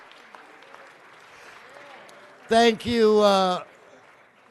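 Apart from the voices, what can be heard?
audience applause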